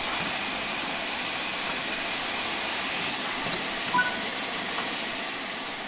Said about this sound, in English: Open the cylinder cocks to remove any water from the cylinders after the locomotive has been left standing.